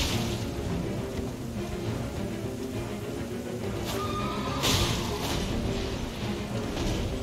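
A horse neighs and whinnies in Elden Ring amid dense, loud combat noise, with a sharp crash partway through and no speech.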